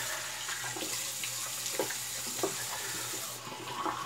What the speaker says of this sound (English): Warm water rinse.